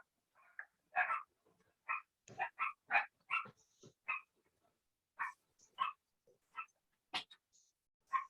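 An older dog whines and yips in short, repeated bursts with brief pauses between them, close and fairly loud, with no voices.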